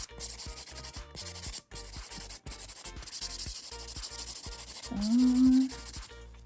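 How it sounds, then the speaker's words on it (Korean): A 180-grit nail file sanding an acrylic nail during a French acrylic manicure, rubbing in quick rhythmic back-and-forth strokes, close and steady, with a brief louder scrape near the end. "샌딩은 조금 더 부드러운 쪽을 먼저 해서 역시나 비비면서 샌딩 해주시면 돼요"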